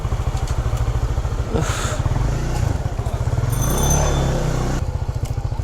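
A Honda CBR motorcycle rides along a rough, neglected road in a busy Dhaka neighbourhood, its engine thrumming steadily and close with a continuous low pulsing note, joined by brief clatter and passing traffic noise.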